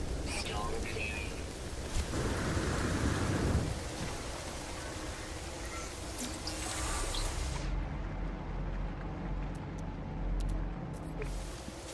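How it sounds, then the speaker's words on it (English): A thunderstorm rages on an alien planet in the video game No Man's Sky. Steady heavy rain hisses throughout, a deep rumble of thunder swells early on, and the downpour softens toward the end. "Weather update. Storm clearing."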